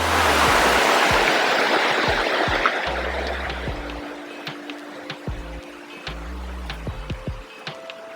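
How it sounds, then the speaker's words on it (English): River water rushing below a forest trail, a broad loud wash that gradually fades, with low rumbling tones and faint clicks as it recedes. "Here we are looking at the river down here."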